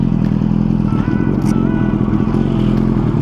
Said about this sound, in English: the Suzuki is already warmed up, so we ain't got to worry about the cold start